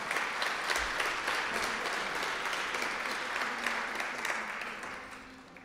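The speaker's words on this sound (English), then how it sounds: "A round of applause for Tom." Sustained applause from an arts awards audience honoring a Lincoln Arts Council member, a dense steady wash of many hands clapping that fades slightly toward the end.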